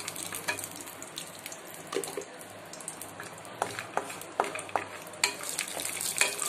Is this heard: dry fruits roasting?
yes